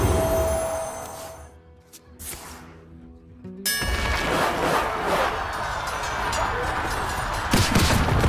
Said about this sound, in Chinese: 我先开枪。